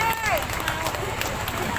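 Brief burst of audience applause for a theatre troupe after a musical performance in Lumajang, steady crowd clapping at moderate volume with voices over it.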